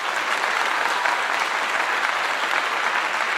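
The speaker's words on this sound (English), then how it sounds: "I want to give you all a clap." A crowd gives sustained, even applause, a dense steady patter of many hands clapping.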